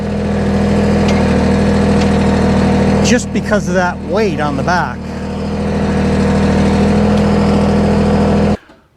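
A steady tractor engine hum with a low, even drone runs throughout, while someone talks briefly over it partway through.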